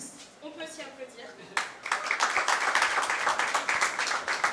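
Applause breaks out from an audience at a jazz festival press conference, starting abruptly after a short stretch of voices and holding as a dense, steady clatter of clapping.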